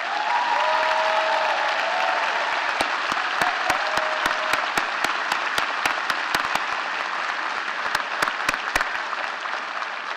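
At a university State of the University address, an audience claps steadily for about ten seconds, dense and sustained, with a few sharper claps standing out near the front.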